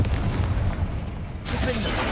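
A Confringo explosive spell blast in Hogwarts Legacy, a dense booming roar that sustains, dips briefly, and then swells again with a fresh burst, loud and close throughout.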